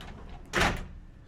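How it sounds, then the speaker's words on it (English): An unusual sliding door in a cheap Hanoi guesthouse rolls along its track in one short, fairly close rumbling swoosh, with quiet room tone before and after. "Very unusual sliding doors."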